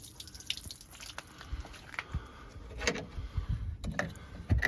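Water dripping and trickling from a Land Rover Series 3 radiator during a coolant flush with a hose in the top, scattered irregular drips and splashes close by, fairly quiet, with no speech.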